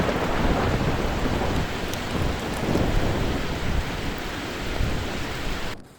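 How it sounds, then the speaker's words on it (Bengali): Heavy rain and a thunderstorm lash down during a storm warning in South Bengal, a dense, steady roar of downpour close by that continues unbroken for several seconds and then cuts off abruptly. "তুমুল ঝড় আর তুমুল বৃষ্টি, দেখুন পুরো ভিজে যাচ্ছি"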